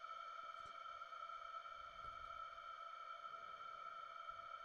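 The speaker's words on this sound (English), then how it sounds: "I freeze it on the last note. You can hear it come in there, and the reverb just carries on playing." A sustained, unchanging reverb tone hangs steadily with stacked ringing pitches, frozen in place without decay, fairly quiet and alone.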